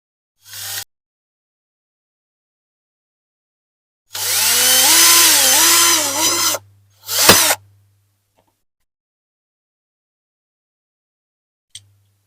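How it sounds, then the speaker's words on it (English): A power drill with a 2mm bit whirs in one steady burst of about two seconds with a rising pitch, then a short sharp grind follows, amid otherwise quiet surroundings. "Right, here we go with that 2mm drill."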